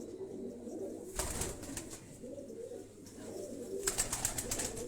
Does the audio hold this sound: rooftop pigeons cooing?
yes